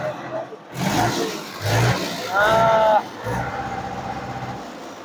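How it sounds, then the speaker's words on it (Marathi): A Mahindra Sarpanch tractor engine fires up and revs in several bursts, a loud close mid-pitched roar rising and dropping, with someone talking between the revs. "गाडीचं तुम्ही फायरिंग पण बघितली असेल, एकदम चांगल्या कंडिशन मध्ये महिंद्रा सरपंच आहे"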